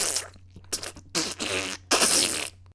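A voice imitates wet, sputtering diarrhea farts with the mouth, four loud, messy bursts separated by brief pauses, close up and alone.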